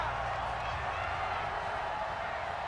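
Dense crowd roar fills a stadium at an NFL playoff game, the Seattle Seahawks against the Dallas Cowboys in an NFC Divisional matchup, holding steady and loud from start to finish with no pauses.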